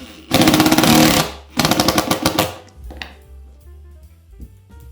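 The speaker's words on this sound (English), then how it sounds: "so I can just drive the nutsert into the hole that we just pre-drilled" A nutsert being driven into a pre-drilled hole in the back of an 80/20 panel board with a power tool, heard as two loud rapid hammering bursts close by, followed by quieter clicks and handling.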